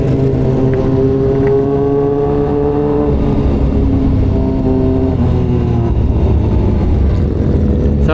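A Kawasaki ZX-4RR motorcycle engine revs up and down, loud and close, its pitch climbing and dropping in a continuous high-revving whine with no speech.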